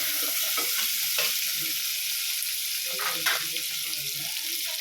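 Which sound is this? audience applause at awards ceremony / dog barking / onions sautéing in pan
onions sautéing in pan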